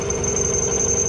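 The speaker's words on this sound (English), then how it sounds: "we'll throw it up on the press and get this thing drilled out" Drill press boring holes in steel skids for a snow pusher box: a steady, droning motor hum with a constant high whine, close and even throughout, no voices.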